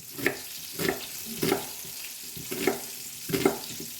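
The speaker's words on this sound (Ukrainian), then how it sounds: "Поки смажиться риба" Steady sizzling of fish frying in a pan, with regular scraping stirs about every second rising above the hiss.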